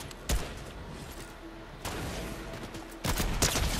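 Rapid bursts of gunfire from headshots in the video game Fortnite, a sharp shot early on and then denser volleys toward the end, with the gameplay's background noise underneath.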